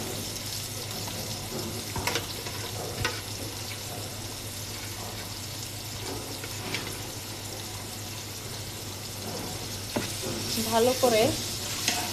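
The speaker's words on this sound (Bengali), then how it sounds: "নাড়াচাড়া দিয়ে এটাকে ভেজে নেব শাকটা।" Bottle gourd greens stir-fry in a pan with browned onion and garlic, giving a steady soft sizzle with occasional scraping stirs, while a voice speaks briefly near the end.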